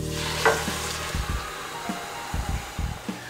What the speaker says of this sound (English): adding a liter of chicken broth to these sizzling vegetables